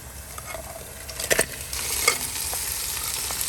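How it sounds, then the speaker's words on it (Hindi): Sliced onions fry in hot oil in a pan for Goan crab xacuti, with a steady close sizzle and hiss broken by a few louder scraping stirs, with no voices. "तेल गर्म होने के बाद डालेंगे प्याज, और प्याज को हमने गोल्डन ब्राउन कर लेना है"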